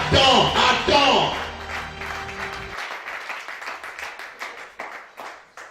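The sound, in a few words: congregation applauding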